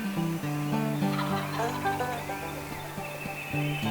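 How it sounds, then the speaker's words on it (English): Two wild turkeys gobble on the Tennessee side of a mountain in the Appalachian hills, their rattling calls breaking out in short bursts at moderate distance over quiet woodland background. "two turkeys gobble out of nowhere"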